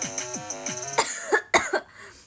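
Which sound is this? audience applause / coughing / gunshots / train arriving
coughing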